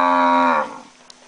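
A cow moos once, a loud, close, drawn-out low call that fades off, followed by quiet.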